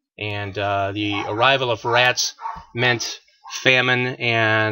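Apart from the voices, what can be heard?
dogs barking in the background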